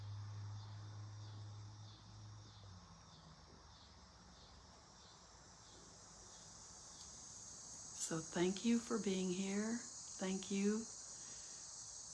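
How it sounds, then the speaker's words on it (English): Steady high-pitched cicada chirring from outside drones throughout a Buddhist dharma talk, joined near the end by a person speaking briefly over it. "I think of the cicadas outside."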